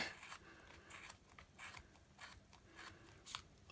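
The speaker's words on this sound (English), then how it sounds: "you can get your scissors in and under to start cutting" Repeated crisp snipping of scissors through soft yarn wound on a Clover pom pom maker, close and fairly quiet, coming in short irregular bursts with no talking.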